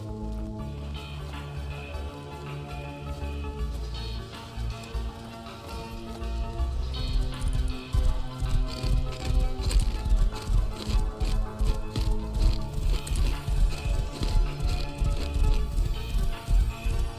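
Horse hooves clip-clop in a video game, a quick, regular run of hoofbeats that builds louder partway through over a steady musical and ambient backdrop.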